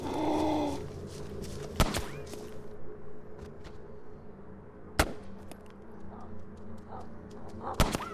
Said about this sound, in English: did I just hear some gunshots to the right?